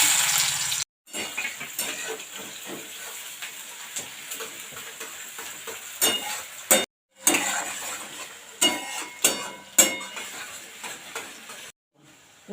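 Crushed onion hits hot oil with bay leaf, cardamom, clove and cinnamon for a Bengali papaya chicken dish, sizzling and crackling up close as a spoon stirs and scrapes the pan in uneven bursts.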